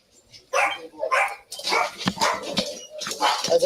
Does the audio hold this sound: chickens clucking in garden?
no